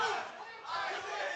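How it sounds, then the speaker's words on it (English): Crowd at a live pro wrestling event reacts to a wrestler, a brief swell of loud shouting and jeering voices that dips once and then rises again. "listen to this crowd give it to Isaac"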